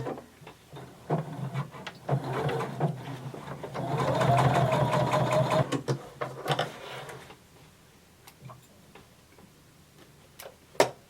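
A home sewing machine runs a stitching line on denim, its needle ticking in a fast steady rhythm that swells into a continuous whir mid-run, then slows to scattered clicks and taps.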